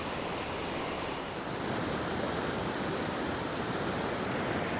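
Loud water rushes close by on a wilderness hike, a continuous, broadband roar like a fast stream or falls, steady and unbroken from start to finish with no voices over it.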